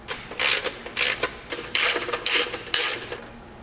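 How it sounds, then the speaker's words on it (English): A 7/32 hex key snugs stainless bolts on a Polaris RZR XP Pro front bumper, a run of about six sharp ratcheting clicks in short bursts, close and clear. "we're going to be using the 7/32 hex key. Let's just kind of snug them up at first."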